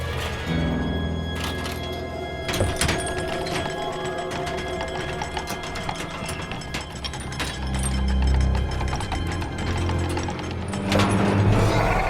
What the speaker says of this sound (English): I'm lowering an elevator for you even.